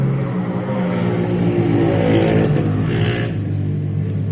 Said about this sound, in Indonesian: Tadi maaf ada suara motor lewat ya, lumayan mengganggu, berisik sekali.